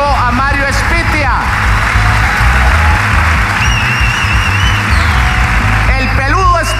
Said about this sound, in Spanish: Fuerte el aplauso a Mario Espitia.